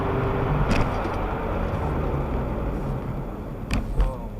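A car cruises along a highway at night, giving a steady, close engine and road rumble with a couple of brief knocks or clicks standing out.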